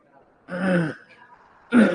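Someone with a cough clears their throat twice in short, rough bursts, close to the microphone, with a brief quiet gap between them.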